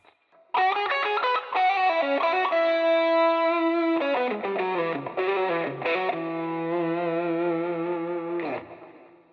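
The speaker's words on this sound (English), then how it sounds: "The wide fader here, that's quite high, is giving me that kind of like 80s chorus sound." An electric guitar plays a lick on the middle pickup with tones at 5 and full volume. Wide 80s chorus and stereo doubling thicken the sustained, singing notes, played alone and clean.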